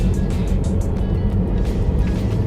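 A manual-transmission car pulls away in first gear, its engine droning steadily with rising revs, heard from inside the cabin as a continuous close rumble.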